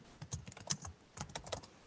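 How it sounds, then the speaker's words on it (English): Rapid, irregular clicking of keys on a computer keyboard while LaTeX Beamer slide code is entered during a workshop; close and fairly quiet, with no voices present. "instead of giving frame title, I'm just typing it here."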